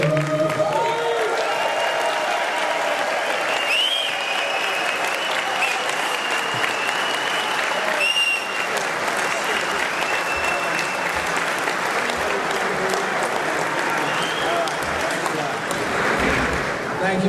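An audience applauds steadily in a hall to welcome Admiral Joseph W. Prueher, a dense, sustained clapping that holds at an even level throughout, with faint voices mixed in underneath.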